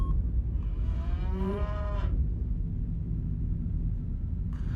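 A cow gives one long, loud, nearby moo that rises then falls away, with a steady low rumble beneath it and a brief noise burst at the end.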